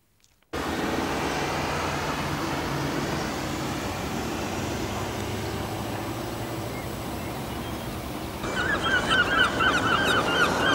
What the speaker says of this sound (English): Just behind the busy harbour where gulls clamour for fish